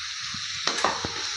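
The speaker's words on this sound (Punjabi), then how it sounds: "ਤੇ 2 ਮਿੰਟ ਵਾਸਤੇ ਆਪਾਂ ਮਸਾਲੇ ਵੀ ਭੁੰਨ ਲਿਆ ਤੇ ਹੁਣ ਆਪਣੇ ਫਰਾਈ ਕੀਤੇ ਹੋਏ ਆਲੂ ਪਾ ਦਾਂਗੇ" Fried potatoes go into a pan of sizzling roasted spices for aloo baingan bharta. A steady frying hiss runs throughout, broken by a few short clatters and scrapes as the potatoes land and get stirred.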